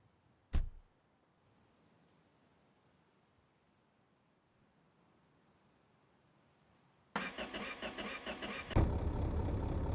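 A sharp click, then a long quiet hiss, before a rebuilt diesel engine suddenly turns over and settles into a loud, steady rumbling idle.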